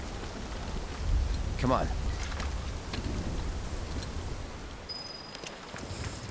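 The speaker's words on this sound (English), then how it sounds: "I'm not really sure why it needed a little bit of a cutscene just to say that it's raining." Steady rain falls in the video game Final Fantasy VII Rebirth, a constant broad patter with a brief rumble near the start, while a voice speaks briefly over it.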